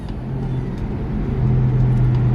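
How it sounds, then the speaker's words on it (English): A Toyota JZX100 engine with an HKS Hi-Power aftermarket exhaust hums at a low, steady idle with a deep exhaust note, rising slightly toward the end, heard close up with no talking. "the new exhaust as well, it makes the engine just sound so much cooler"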